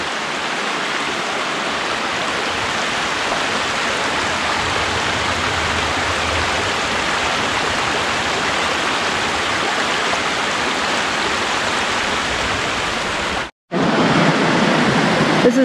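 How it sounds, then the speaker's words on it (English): Cascading waterfalls at Lunch Creek in Glacier National Park produce a loud, continuous broadband rush of falling water, steady throughout with a brief cut near the end, and no talk. "Series of cascading waterfalls."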